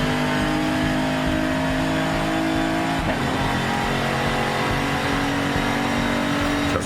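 A race car in Forza Horizon 5 drones along at steady high revs, the engine tone dropping sharply partway through as it gears down, then continuing loud and close with a rougher, lower note.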